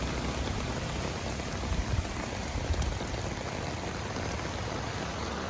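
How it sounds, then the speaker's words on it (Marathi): Heavy monsoon rain pours without pause near Panvel railway station, where the streets are flooded. It makes a dense, loud, even hiss of falling water, with no voices over it. "पाऊस जोरदार चालू आहे. पाऊस काही थांबत नाही आहे."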